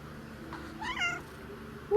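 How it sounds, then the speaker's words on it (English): A farm cat gives a single rising-and-falling meow at moderate distance over a quiet background hum, followed by a brief, sharper sound just at the end. "I think she is the second oldest cat on the farm."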